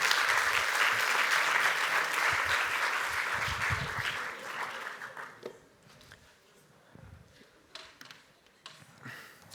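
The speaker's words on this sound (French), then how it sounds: "Vous pouvez l'applaudir." An audience at a corporate event with a mentalist on stage bursts into loud, dense applause that holds for several seconds, then thins out into scattered individual claps and a few footsteps as it fades.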